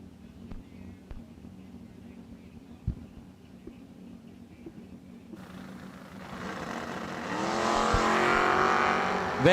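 Drag racing cars, a Pontiac in the right lane and a 1979 Pinto, launch at World Wide Technology Raceway: quiet ambience at first, then engines roar up loudly and build to a sustained, rising race-car drone.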